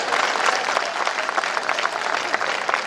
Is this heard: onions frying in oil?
no